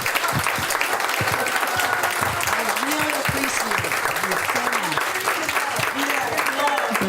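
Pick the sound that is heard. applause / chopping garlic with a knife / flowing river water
applause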